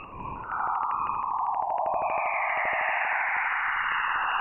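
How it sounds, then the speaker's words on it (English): A played recording of radio emissions from Jupiter's auroras: a loud, continuous warbling electronic whoosh with sweeping chirp-like tones and a rapid pulsing buzz, alone without talk. "What you just heard was actual radio waves coming from Jupiter's auroras"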